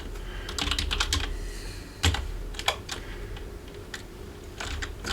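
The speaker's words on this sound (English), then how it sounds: "The keyboard keys feel a bit tiny, but I think I could get used to it." Fingers typing on the small keys of an MNT Reform laptop keyboard, quick bursts of close, crisp clicks with short pauses between runs, no one speaking.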